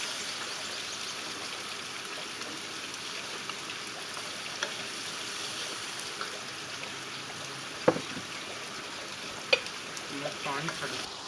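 Garlic paste fries in oil in a wok, giving a soft, steady sizzle throughout and two brief clinks of a utensil, with no voices.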